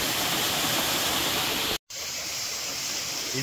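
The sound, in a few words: Soormane waterfall water roaring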